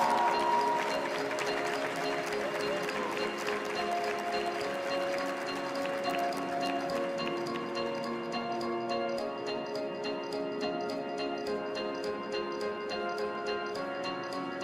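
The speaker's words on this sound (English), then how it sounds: "A huge round of applause for Ryu." Audience applause for a Sephiroth cosplayer at the DreamHack 2022 cosplay contest in Mannheim, a steady clapping crowd heard through loud music that plays over the whole stretch.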